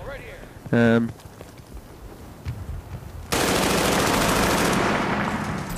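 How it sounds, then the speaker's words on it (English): Automatic fire from an M249 light machine gun in Battlefield: Bad Company 2, a dense loud burst beginning partway through and holding steady to the end, after a short electronic chime and quieter game ambience. "You're supplied with a light machine gun. Here I'm using the M249."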